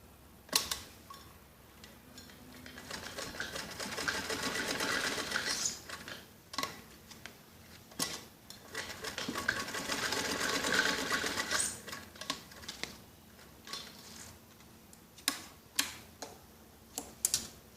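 A sewing machine stitches elastic into the waistband of a child's skirt, running in bursts of rapid mechanical clatter with short pauses and ticks between passes, close and fairly quiet.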